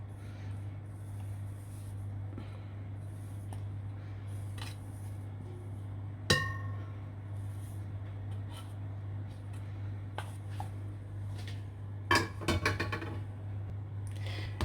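A utensil scrapes melted chocolate from a bowl onto egg yolks, soft clinks and scrapes, including a couple of sharper knocks, over a faint steady hum, close and quiet.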